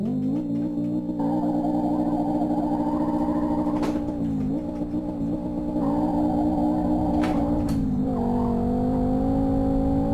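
Fiat Marea 2.0 20V turbo engine in the Live for Speed racing game, droning steadily and loudly throughout, its pitch dipping and climbing with a few gear shifts and short sharp pops.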